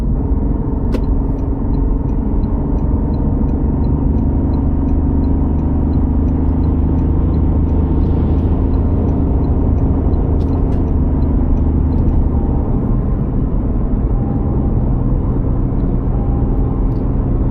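A car overtakes a truck on the road, heard from inside the vehicle as a steady, loud engine and road rumble that continues without letup, with faint clicks and no talking.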